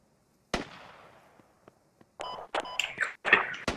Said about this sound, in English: Grenade launcher, chuck a couple of grenades in that compound.